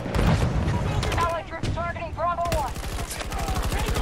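Gunfire in the Battlefield 2042 video game: dense, rapid bursts of automatic fire, loud and continuous, mixed with shouting voices throughout.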